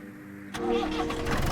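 A wheel loader's engine cranks and catches in Gas Station Simulator, a sudden onset after quiet, then settling into a steady, loud mid-pitched idle rumble with no talk over it.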